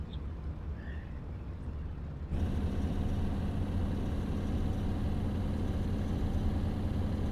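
A Spitfire aero engine in the IL-2 Cliffs of Dover flight game catches and starts. A low hum suddenly jumps into a loud, steady engine drone that keeps running without a break, and no one speaks.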